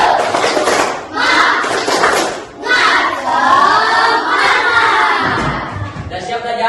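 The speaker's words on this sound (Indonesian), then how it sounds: "coba tepuk semangat dulu" Primary schoolchildren in a class perform a rhythmic spirit clap chant, loud group shouting and clapping in bursts with brief pauses between phrases, close and energetic.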